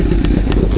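A recently bought motorcycle idles close by with a steady low engine rumble and faint clattering, running alone without talk for under a second.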